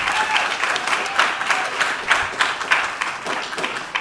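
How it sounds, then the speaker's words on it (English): A crowd at a 30th anniversary celebration gives a sustained round of applause for the members of a group, dense steady clapping rising in small surges throughout. "let's give a round of applause to all our members of Sistagraphy."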